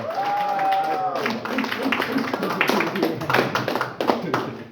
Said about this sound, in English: So, clap for him.